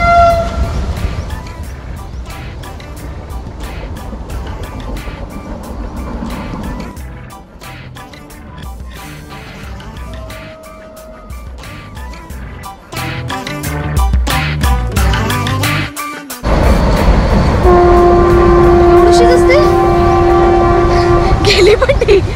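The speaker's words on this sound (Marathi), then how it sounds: "आता बघा, ब्रिजवरून वंदे भारत जाईल, ती मी तुम्हाला दाखवते." A Vande Bharat train rumbles loudly across a Konkan Railway bridge near Lanja, Ratnagiri, with a steady roar of wheels on the span and a long, blaring horn near the end.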